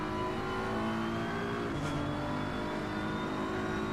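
BMW race car in an SFR GT Challenge racing game driven by Raymer, a steady engine drone with a rising rev pitch, heard alone at moderate level.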